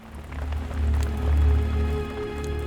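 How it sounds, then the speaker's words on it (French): Rain falls steadily at night on the surface of the Pangalanes canal, a continuous patter over a deep low rumble, with no voices. "la pluie qui brouille la surface du canal"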